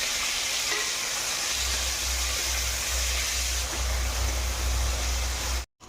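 Potatoes frying in a pan with chili, tomato and ginger just added make a loud, continuous sizzle with low rumbling bursts underneath, running unbroken until a brief cutoff near the end.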